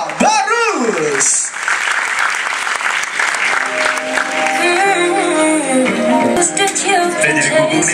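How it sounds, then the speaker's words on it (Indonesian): Lively audience clapping welcoming Dipa Barus at the Mindful Project 2018 happiness talk, sustained and fairly loud under excited voices, a voice and a melodic tone cutting through the applause. "Kita sambut dan berikan tepuk tangan yang paling meriah untuk Dipa Barus."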